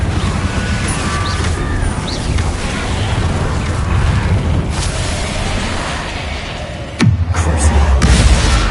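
Confringo fire-blast spells explode in Hogwarts Legacy amid a loud, dense battle din of rumbling blasts, ending in a sharp crashing impact followed by deep booming.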